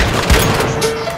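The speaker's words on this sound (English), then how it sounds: "I'm blowing up this wall on this attacker's spawn side" An explosive charge blowing up a wall in the game Once Human during a stronghold battle: a single sharp, close blast with a low thud and crashing debris.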